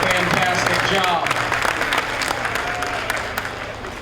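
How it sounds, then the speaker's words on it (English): A crowd applauds breeding cattle exhibitors at a county fair's parade of champions, with steady clapping throughout as a voice talks over it and the applause slowly fades. "let's give them a big round of applause for our breeding cattle exhibitors here"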